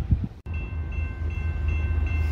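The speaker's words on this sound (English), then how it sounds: "So we got a train coming right away today." A BNSF train on the Chicago Subdivision rumbles in from a distance, a low steady drone with a faint high tone, growing gradually louder, no voices.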